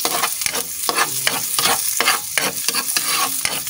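Onions being stir-fried in a wok over a wood fire, with steady close crackling sizzle and repeated scraping stirs of the utensil against the pan throughout.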